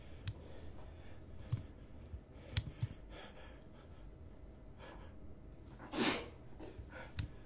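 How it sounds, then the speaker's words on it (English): One sharp, breathy sneeze bursts out loud and close, following a stretch of quiet breathing and scattered soft clicks, with a few light clicks trailing after it. "I think I need to sneeze."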